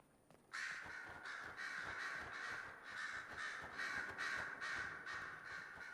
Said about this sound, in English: I already hear the crows go